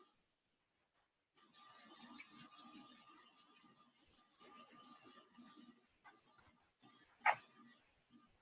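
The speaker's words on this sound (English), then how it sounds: "This is our new puppy, Maddie." Small puppy noises, soft whimpers and yips, close but quiet, with a brief louder squeak near the end.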